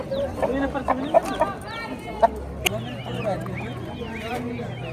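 A hen and chicks cluck repeatedly nearby at a bazaar, with short chirpy calls scattered through a busy background of voices and market chatter.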